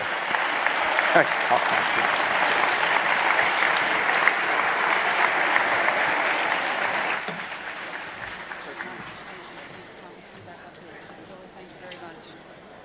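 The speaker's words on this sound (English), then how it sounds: "Another round of applause, please, for Tom, Willie, and the governor." A crowd at a hunger charity event gives loud, sustained applause for Tom, Willie and the governor, then it thins out and fades to scattered claps as a voice speaks briefly.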